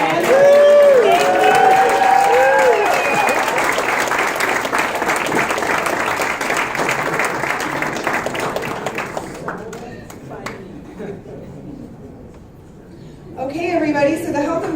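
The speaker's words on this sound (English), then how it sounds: "And can we please give a round of applause for Louise?" Applause and cheering from the audience at a health and wellness convention and festival, loud with whoops and voices at first, then fading to scattered claps and quiet before people talk again near the end.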